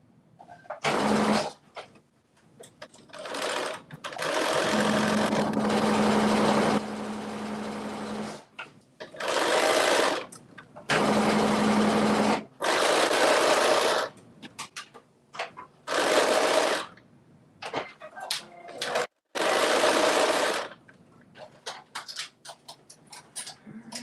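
A home sewing machine runs in repeated bursts of fast, steady stitching, some long and some short, with pauses and light handling clicks between them. It sounds close, with no one talking.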